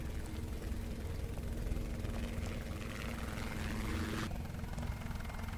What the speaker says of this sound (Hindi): अबे हेलीकॉप्टर चला गया यार